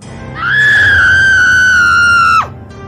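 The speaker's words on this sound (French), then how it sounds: "Tout à coup le culte fut interrompu par les cris d'une femme." A woman's loud, sustained scream in an animated drama, a single held high cry of about two seconds that breaks off sharply, heard alone over a quiet background.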